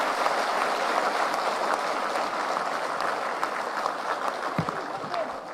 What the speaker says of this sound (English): Kindly give a warm of applause and heart-rendering clap for our beloved leader and all the leaders on stage